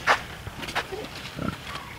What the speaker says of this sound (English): She's a pretty good looking pig.